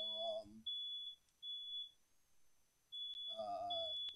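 A fire alarm beeps repeatedly in a room, high steady electronic tones in an even pattern, heard alone for a stretch while a voice is audible at the start and end.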